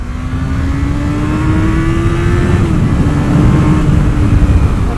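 A 1996 Yamaha YZF600R Thundercat sport motorcycle engine revs up toward high rpm while riding, a loud close whine climbing steadily in pitch over wind roar, briefly dipping before pulling again.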